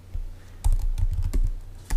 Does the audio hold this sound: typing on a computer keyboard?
yes